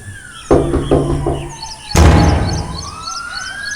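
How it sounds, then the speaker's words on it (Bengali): A police siren sound effect from a horror audio drama, wailing and gliding in pitch, with sharp knocking or thudding impacts early on and a loud crash near the middle as the siren continues. "পুলিশের সাইরেন"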